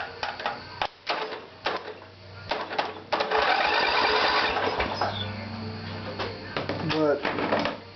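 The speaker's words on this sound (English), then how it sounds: "See, I'm going to jump it by the solenoid." A vehicle's engine starter motor jumped directly at the solenoid, cranking in a loud, sustained mechanical whir after a few short clicks and bursts, with a voice talking briefly over it.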